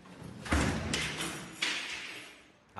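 Police force open a door during a raid in Rio de Janeiro, giving a few heavy, close, blunt bangs and thuds spaced irregularly, with a lingering rattle between impacts.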